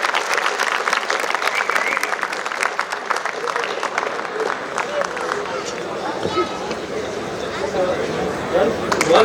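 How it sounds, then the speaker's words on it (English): An audience applauds after a senior school English play at Aitchison College, sustained dense clapping filling the hall, with some crowd chatter mixed in. "a big round of applause for the marvelous, talented actors and the people behind the scenes"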